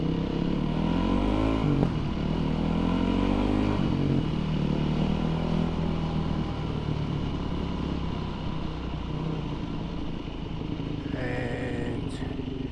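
A 2005 Yamaha WR450 dirt bike is ridden, its loud, steady four-stroke engine rising and falling through gear changes and throttle blips, close by and continuous with no talking.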